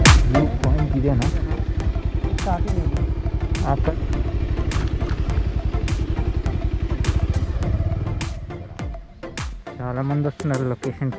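A motorcycle rides along a dirt road toward a waterfall, its engine chugging in a close, steady rapid putter for about eight seconds before dropping away, with people talking over and after it.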